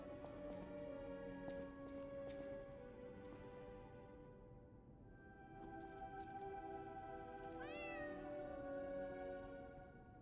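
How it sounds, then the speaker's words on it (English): A cat meows in the video game Lies of P, one short rising meow late in the clip, faint over a steady ambient music bed with quiet background tones. "Look at the kitty."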